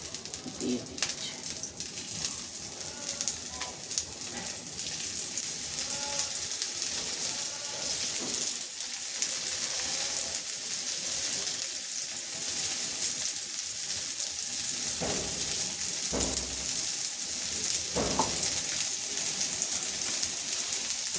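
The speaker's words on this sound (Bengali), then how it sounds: "এটাও আস্তে আস্তে আমি ভেজে নিই।" Beef brain frying in oil in a pan, a steady sizzle and crackle running throughout at moderate level, with soft bird cooing and a few brief clatters in the background.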